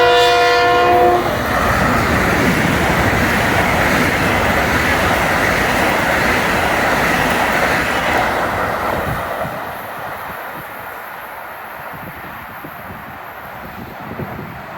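Diesel train on the New Haven Line passes through Larchmont station, loud and close, with a blast of its horn at the start and a steady rumble and clatter that fades over the last few seconds.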